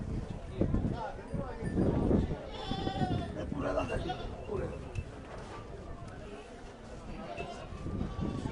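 Goats bleat repeatedly at a busy outdoor goat market, close and fairly loud, mixed with crowd murmur and people talking nearby.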